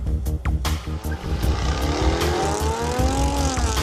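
Jaguar F-Type coupe engine with its active sports exhaust revving hard, a loud, close, continuous roar rising and falling in pitch, with brief tyre squeal and sharp exhaust crackles near the start.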